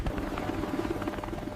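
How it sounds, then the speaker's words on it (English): Helicopters flying at night during a military raid on a compound, with a steady, throbbing rotor drone that holds at an even, moderately loud level throughout, with no voices. "As the helicopters cut through the darkness"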